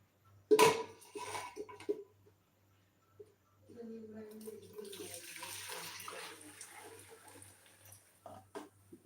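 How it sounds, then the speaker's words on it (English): Ackee cooking water poured back into a pot in a home kitchen while making ackee and saltfish, a steady splashing pour running for several seconds after a brief clatter and some talk. "I am going to now throw back this ackee water in this pot."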